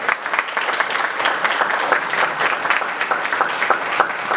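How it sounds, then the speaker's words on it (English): An audience claps steadily through the whole span at a Microsoft reveal event for the game Pet Pat before a Q&A, giving a dense, even round of applause with no talk over it. "Yeah, round of applause first."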